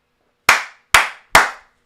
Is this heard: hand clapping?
yes